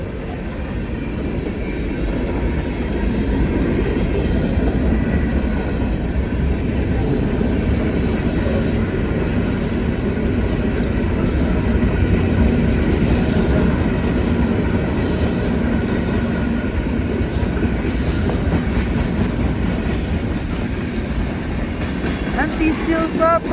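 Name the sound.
CSX freight train M326 passing in a blizzard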